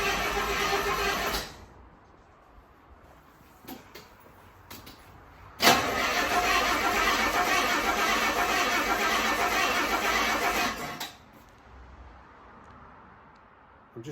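A classic car's engine, unstarted for about three months, cranks briefly and fails, then after a pause turns over again and runs for several seconds before cutting off; nearby and fairly loud.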